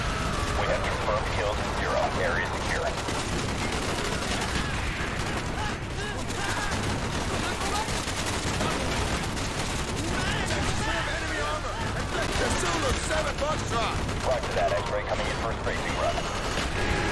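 Dense, continuous gunfire and explosions fill a battle in the video game Call of Duty: Black Ops, including an RPG launch, a loud unbroken barrage with voices mixed underneath.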